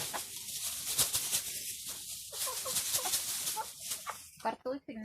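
Hens cluck in short bursts near a greenhouse on a cold day as they wait for potato and cabbage peelings. The calls rise over a steady background, and a few sharper clucks come near the end.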